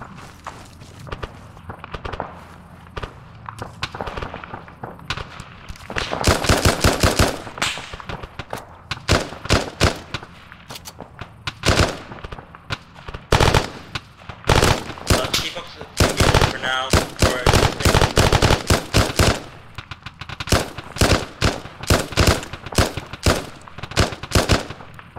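Machine gun fire in the Arma 3 military shooter, with dense bursts and repeated rapid volleys that are loud and close and continue through most of the clip, while voices talk over radio between the bursts.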